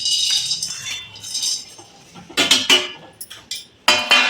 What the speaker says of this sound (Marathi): आता मी काजू काढले, त्याच्या तुपात भाजून घेते।